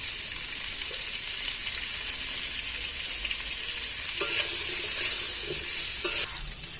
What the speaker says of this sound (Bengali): এবার আমি আলুগুলো একটু ভেজে নিচ্ছি